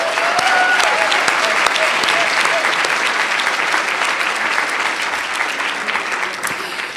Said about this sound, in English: Let's give another round of applause to President Sorrell.